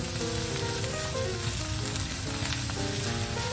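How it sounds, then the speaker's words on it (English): Fried rice with soy sauce sizzling in a very hot pan, a loud continuous crackling hiss close up, alongside faint tonal sounds in the background and no talk. "I put a little soy sauce on top, because guess what? My pan is so hot"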